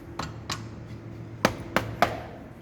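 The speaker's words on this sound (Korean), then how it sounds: "자 물려주고 나면은 이 부분이 움직이지 않는 상태까지 망치로 때려줍니다." A hammer strikes a workpiece clamped in a machine vise during a machining practice session: five sharp metallic taps, two spaced apart and then three in quicker succession, close and clear over a low machine hum.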